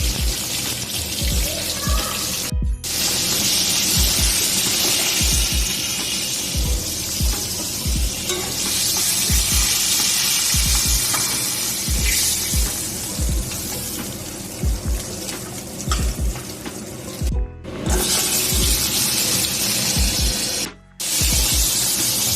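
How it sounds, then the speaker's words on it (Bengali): Crab pieces coated in salt and turmeric fry in hot oil with a loud, steady sizzle and crackle, punctuated by spatter and stirring scrapes, running continuously with a few brief gaps. "সেটাই ধুয়ে পরিষ্কার করে নুন হলুদ মাখিয়ে দেখো প্রথমে ভেজে নিচ্ছি"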